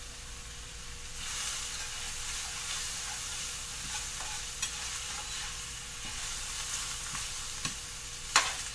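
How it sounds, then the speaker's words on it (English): Tofu frying in oil flavored with powdered ginger, a continuous close sizzle with occasional pops and crackles and a few sharper clicks toward the end, with no one speaking. "Okay, here we go. Tofu time."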